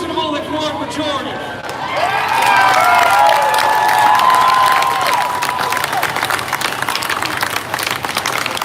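A crowd at a Back the Blue rally outside Seattle City Hall cheers and applauds, swelling to a loud roar of clapping and shouts before easing off, with voices mixed in.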